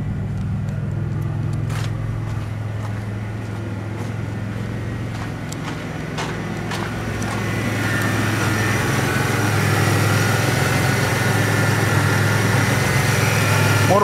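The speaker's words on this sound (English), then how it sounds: "Motor runs real good, real clean motor. The V6, 3800 series." A Pontiac Grand Prix GT's 3800 series V6 idles with a steady low hum and light vibration that stays even throughout and grows slightly fuller in the second half.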